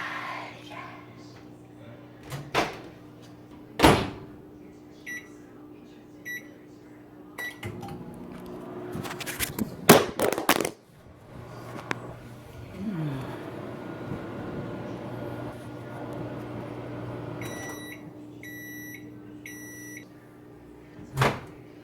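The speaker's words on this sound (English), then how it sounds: "throw it in the microwave" Clunks of a door closing and beeping buttons, then a microwave hums steadily for several seconds before ending with a series of beeps; faint voices nearby.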